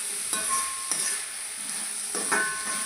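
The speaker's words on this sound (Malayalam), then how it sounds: "ഒരു 2 മിനിറ്റും കൂടെ നമുക്ക് ഇങ്ങനെ തന്നെ ഒന്ന് വഴറ്റി കൊടുക്കാമേ" Onions sautéing in a pan for Kerala-style egg roast: a steady close sizzle with a few soft scraping stirs of a spatula, no voices.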